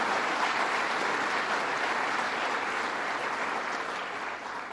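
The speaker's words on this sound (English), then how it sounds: "But let's have a big round of applause for my friend, your great county executive, Joni Mahoney." Sustained applause from a crowd at a governor's executive budget event in Onondaga County, dense steady clapping filling the room for the full stretch and easing slightly at the end.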